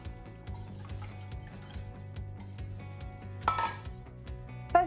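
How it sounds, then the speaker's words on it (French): Three eggs being whisked in a small bowl for a lemon Yule log cream: a quiet, steady, rhythmic clinking and scraping of a whisk against the bowl, with a couple of sharper knocks near the end. "Dans un petit bol, on va battre 3 œufs en omelette"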